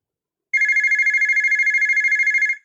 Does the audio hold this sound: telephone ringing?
yes